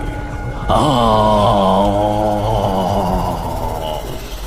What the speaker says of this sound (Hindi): तभी तांत्रिक बाबा की एक दर्दनाक चीख फिजा में गूंजी।